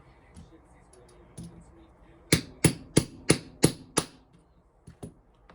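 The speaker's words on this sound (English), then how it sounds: "Punch the bearing out." A hammer punches a bearing out of an FCX18 rear end housing: six sharp, evenly spaced metallic blows in quick succession, close and loud, with a few fainter taps before and after.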